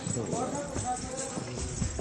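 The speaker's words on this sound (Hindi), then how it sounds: "बैठ गए घोड़े पर और हमने कर दी अपनी यात्रा शुरू" Horse hooves clip-clopping on the pilgrimage ride to Vaishno Devi near Katra, a steady close rhythmic clatter on the path with people talking over it.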